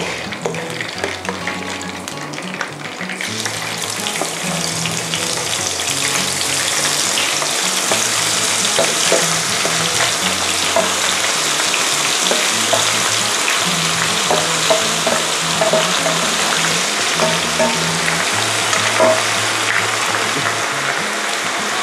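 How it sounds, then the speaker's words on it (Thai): Pounded herbs frying in oil over low heat, a steady close hiss and crackle of sizzling that swells after a quieter start and holds evenly, with faint stirring, no talking. "ทีนี้นะคะเราจะต้องมาทอดสมุนไพรที่เราโขลกไว้นะคะหรี่ไฟด้วยนะคะ"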